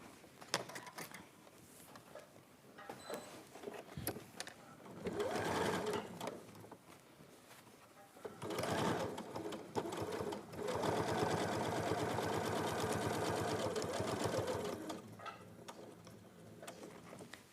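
A sewing machine stitches a quarter-inch quilting seam in quick whirring runs, rapid needle ticks in short bursts and then a longer continuous stretch, close but fairly soft.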